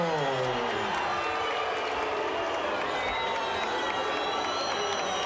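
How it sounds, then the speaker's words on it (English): At a heavyweight boxing arena, a large crowd responds to a split technical decision with a dense, sustained mix of cheering, booing and scattered applause, loud and continuous. "some mixed reaction from the crowd here"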